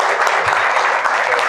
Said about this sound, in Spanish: un aplauso de bienvenida para nuestros expositores